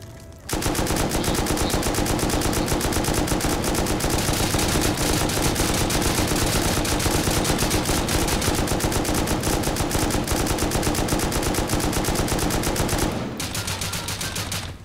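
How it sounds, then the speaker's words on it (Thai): Rapid, relentless automatic gunfire from the video game Rust, a loud continuous barrage lasting several seconds before abruptly cutting off into quieter game sound. "มีคน เอา บ้องมายิงอัดเรา นะ เว้ย"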